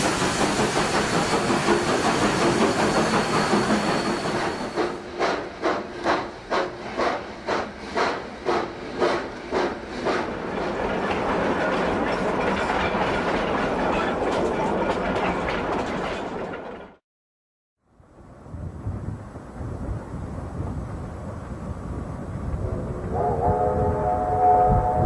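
A steam train from Trainz12 on the Cumbres & Toltec line rolls along with a steady rhythmic clickety-clack of wheels and rumbling, then drops to near silence as it plunges into Rock Tunnel, resuming with a hissing roar afterward.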